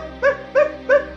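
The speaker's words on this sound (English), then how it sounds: "I literally can bark" Three short, evenly spaced bark-like yips from a pug character in the Poppy Playtime Chapter 2 video game. They are clear and close, with no talk.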